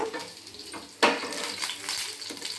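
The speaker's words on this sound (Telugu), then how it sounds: "అల్లం ముక్కలు బాగా వేగిన తర్వాత" Steady sizzle of ginger pieces frying in a pan with stirring scrapes and a sharper clatter of a utensil near the middle, no talking.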